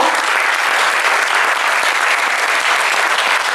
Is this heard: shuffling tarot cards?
no